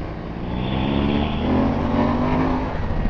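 A BMW GS motorcycle engine on its stock exhaust, a continuous throaty drone that swells slightly as it revs, close and fairly loud throughout.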